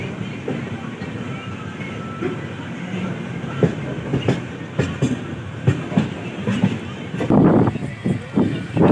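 Passenger train 14055 from Mau Junction to Anand Vihar rolls along the rails, heard from on board as a continuous rumble with irregular clickety-clack wheel knocks growing busier toward the end.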